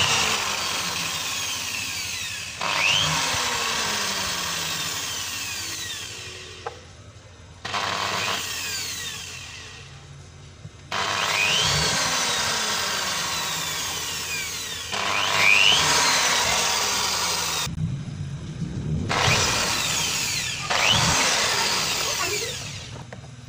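Power drill boring holes through a plant pot for a potted grape setup, in several loud bursts of whining drilling separated by short pauses, with no talk.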